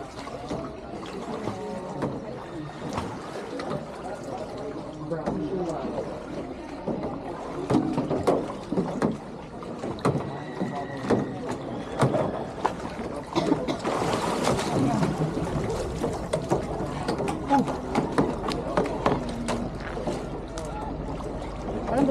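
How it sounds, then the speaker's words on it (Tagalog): Boats moving on water in crowded traffic near Coron, Palawan, Philippines: a steady wash of water and motor noise throughout, with louder surges and splashes toward the end and scattered voices mixed in. "Parang dumami ang bangka."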